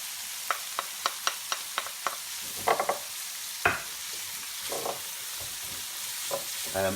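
Garlic goes into a pan with chicken, chorizo and a knob of butter. A quick run of sharp utensil taps gives way to scraping stirs and bursts of sizzle over a soft, steady frying hiss.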